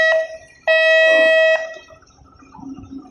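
A departing LCT passenger ship sounds its horn: a short loud blast, then a longer steady one of about a second, both with a brassy harmonic tone, followed by low harbor rumble.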